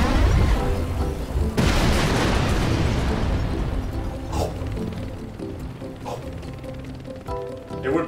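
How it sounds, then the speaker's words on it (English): Continuous roaring, booming machine gun fire in the VR game Final Approach, dense and loud throughout with scattered sharper pops and bursts layered over a heavy rumble. "Use those machine guns."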